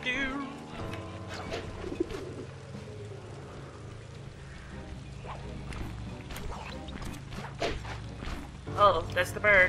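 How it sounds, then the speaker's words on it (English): Soft pigeon-like cooing from a bird in the video game Sly 2: Band of Thieves, faint and repeated beneath steady game music and ambience, with a brighter burst near the end. "Oh, that's the bird."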